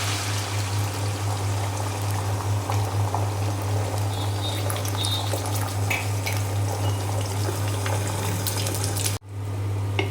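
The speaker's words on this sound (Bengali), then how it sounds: "ডিম ভাজি করব, তেল দিয়ে দিয়েছি, তেল গরম হয়ে গিয়েছে, আমি এখন ডিম দিয়ে দিলাম।" Egg frying in hot oil, a steady close sizzle and crackle over a constant low electrical hum, running unbroken until a brief cutoff near the end, with no talking.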